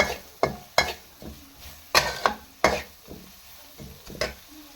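Mashed potatoes stirred into frying onions in a pan for aloo samosa filling, giving a series of scraping, clattering spoon strokes over a soft sizzle, about ten distinct knocks at an uneven rhythm, close and moderately loud with no talking.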